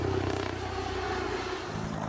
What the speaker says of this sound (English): it cuts down the normal chop, chop, chop sound from a helicopter into a more discreet whir that kind of blends into the background.